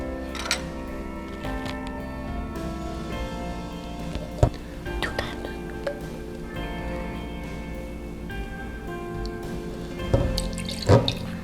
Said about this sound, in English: We're gonna be putting peroxide, and that we only need 30 milliliter, Milo.